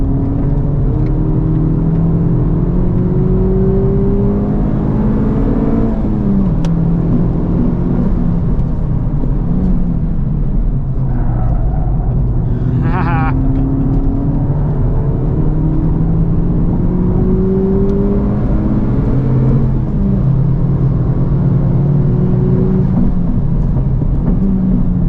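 A 2023 Honda Civic Type R drones loudly from inside the cabin on a race track, engine pitch rising and falling through acceleration and shifts, with steady road and wind roar underneath and a brief high electronic chirp midway.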